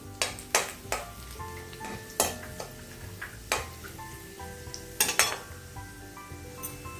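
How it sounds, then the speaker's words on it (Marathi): Soft sizzling of garlic frying in hot oil, with occasional sharp clinks of a utensil against a pan; no talking. "अशी लसूण चांगली भाजायला पाहिजे ही बघा"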